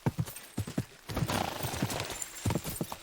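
Horse hooves clip-clop in repeated bursts while riding in Kingdom Come Deliverance 2, with a steady rhythm that drops out briefly and then returns over a continuous ambient hiss, the hoofbeats loud and close.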